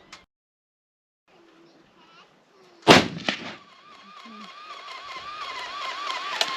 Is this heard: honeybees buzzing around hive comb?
no